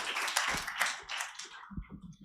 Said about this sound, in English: Please make him feel welcome with a round of applause